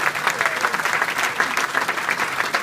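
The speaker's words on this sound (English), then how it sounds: "If we can have a round of applause for them." A room of guests at an awards dinner applauds the head sponsor, steady dense clapping from many hands sustained evenly throughout at moderate loudness.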